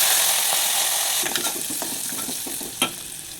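Curry leaves, dried red chillies and turmeric hit hot oil for a Telugu cucumber chutney tempering, giving a steady close sizzle with crackles and pops scattered through it and one sharper burst near the end.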